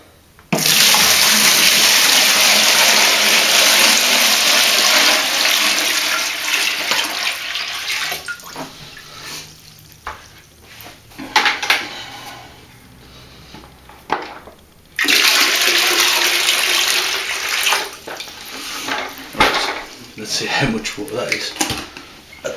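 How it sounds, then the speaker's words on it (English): Water pours loudly into a hydroponic DWC bucket, roughly 10 to 12 litres, in two strong bursts of rushing flow with quieter handling and knocks between, while a person talks in the gaps. "I've got about 10, near enough 12 litres of water ready to test. I'm going to put it in now and do it."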